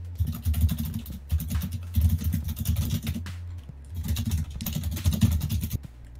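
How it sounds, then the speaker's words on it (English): Computer keyboard typing in bursts of rapid clicking keystrokes, close and fairly loud, with short pauses between runs and no speech. "Somebody's typing."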